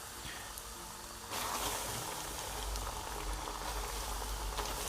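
Floured lamb liver pieces hit hot oil together and fry with a dense, crackling sizzle that swells as more pieces go in and then bubbles steadily, close and fairly quiet.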